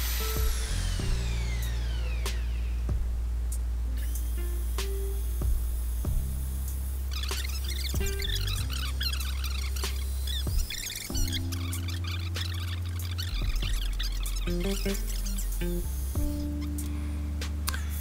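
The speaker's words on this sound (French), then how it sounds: "Et après, voilà, il ponce l'extérieur du bol." Abrasive paper pressed against the outside of a spinning fig wood bowl on a wood lathe, a continuous hum with whooshing friction that rises and falls over a steady low motor drone.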